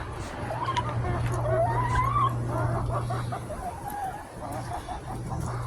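A black Cochin bantam rooster clucks and calls in a backyard, with short, bright vocal bursts close by over a low steady hum, and someone speaks at the same time.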